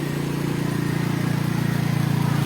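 A car engine strains in low gear while the vehicle is driven out of a roadside ditch through water, a loud continuous rumbling drone with a steady pulsing beat and no speech over it.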